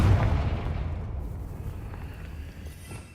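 A Confringo blasting spell explodes in the Hogwarts Legacy video game, opening with a heavy, close boom that decays into a long, rumbling tail.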